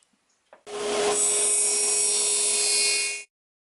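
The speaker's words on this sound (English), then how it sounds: "there's one thing that I sure do like about cutting cedar" Cedar 2x6 board being ripped into 3/4 inch strips with a power saw in a workshop: a loud steady whine with a sustained tone, starting abruptly after a faint click and running about two and a half seconds before stopping cleanly.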